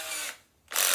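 Power drill boring into a workpiece while making organ pipe rollers in a workshop, with two close, loud whirring bursts split by a short pause.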